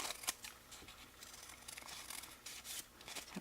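Scissors snip through a folded paper coffee filter as a round shape is cut, producing quick, quiet crisp cuts and light rustling close by.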